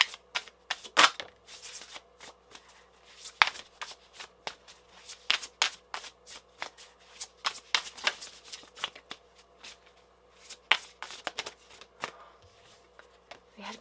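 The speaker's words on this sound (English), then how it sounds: "I'm going to go ahead and get one more card." Tarot cards being shuffled and drawn for a pick-a-card reading: steady bursts of riffling and slapping card sounds, close and fairly loud, continuing over about fourteen seconds with short pauses between.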